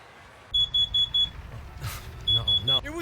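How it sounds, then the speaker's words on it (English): A smoke detector sounds a series of sharp, high, repeated beeps in two short clusters indoors, with someone talking and noise between the bursts. "It was a smoke detector."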